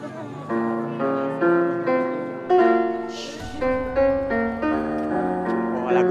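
A man plays an electronic organ on a television show, with a slow, melancholy run of sustained chords and melody notes stepping one after another, close and steady, and no talking over it.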